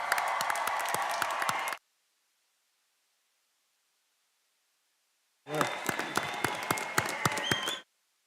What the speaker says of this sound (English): now I'm going to ask both the faculty and the audience to stand up in a thunderous round of applause to our students